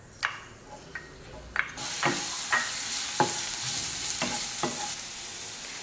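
One and a half tablespoons of crushed garlic drop into hot coconut oil in a kadai for Kerala chicken curry; a few light taps come first, then a sudden loud hiss with occasional spoon clicks.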